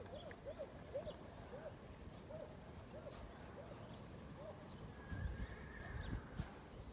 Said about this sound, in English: There's horses neighing and dogs barking and everything going on here.